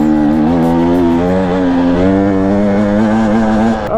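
A KTM 250 EXC-F four-stroke dirt bike labouring up a steep hill climb at about 13,000 feet in the Colorado mountains, its engine droning loud and close with a slowly rising and falling pitch throughout.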